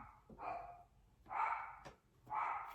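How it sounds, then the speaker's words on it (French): A dog barks three times in separate, evenly spaced bursts, fairly close and clear, with quiet gaps between them. "Excusez mon chien, il aboie."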